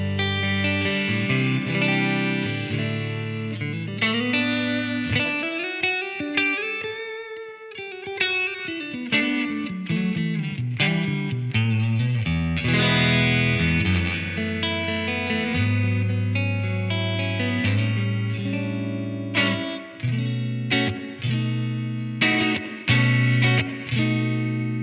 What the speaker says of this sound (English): Let's see what the spring reverb sounds like.